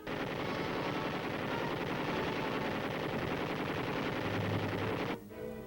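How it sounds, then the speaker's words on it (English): Machine guns fire live ammunition over soldiers crawling through a training course, a dense, loud, continuous rattle of rapid bursts that stops abruptly near the end. "guns fire live ammunition over the heads of the men as they crawl 75 yards toward the finish line"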